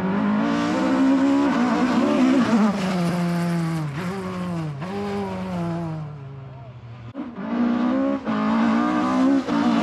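Rally cars, including a blue Mark II Escort, race past up close on a rally stage in Ireland, engines rising and falling loudly and continuously as they sweep by, with a brief lull before another car arrives.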